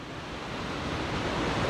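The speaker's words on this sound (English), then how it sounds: "It's incredibly windy." Steady, roaring broadband rush of strong mountain wind buffeting the microphone at Namhansanseong fortress in Seoul, growing slightly louder throughout, with no voices.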